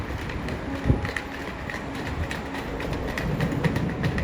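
Rail noise at a railway station in Israel: a steady broadband rumble with wind buffeting the microphone, a brief louder knock near the start and faint rhythmic clatter, with no talking.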